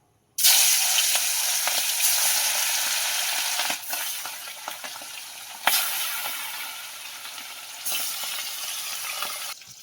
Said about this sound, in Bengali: তেলটা আমার গরম হয়ে গেছে, মাছগুলো এখন আমি দিয়ে দিচ্ছি।